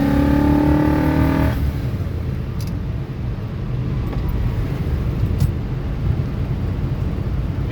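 A 1966 Corvette Roadster's engine revs hard for a moment, then gives way to a steady roar of road and wind noise, with a few faint clicks from the shifter.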